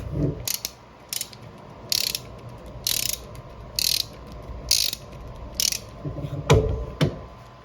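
Bursts of clicking from a Pittsburgh extendable ratchet wrench come in short repeated strokes, roughly one per second, close and crisp over a low background hum.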